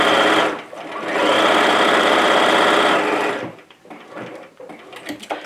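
Sewing machine stitching through sheet fabric in one loud, fast, steady burst of about three seconds, then stopping into quieter handling noises and light clicks.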